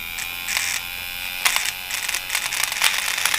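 FK Irons Edge X rotary tattoo machine running at 5.5, a high electric buzz that comes in short bursts and stretches, stopping and restarting several times, close and fairly loud.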